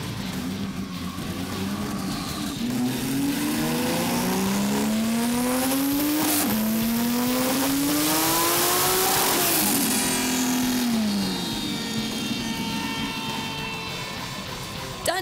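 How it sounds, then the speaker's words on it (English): A twin-turbo Porsche 911 roars on a chassis dyno, its engine climbing steadily through several gear changes at full throttle, loud and close, before easing off at the end. "This 911 twin-turbo Porsche produced the highest horsepower of the day, 490 kilowatts on the wheels"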